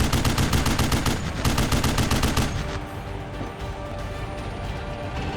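Heavy, rapid automatic gunfire in a military video game as a tank platoon suppresses an area, dense overlapping bursts that ease into a rumbling, slightly more distant barrage.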